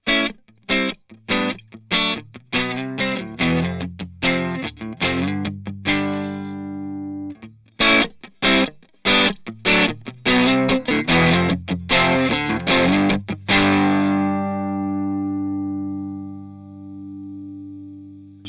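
An electric guitar with a clean tone, no reverb or tremolo, played straight into a Vox amp, plays short, choppy chords in a steady rhythm, briefly pausing, then resumes before letting a final chord ring out and fade.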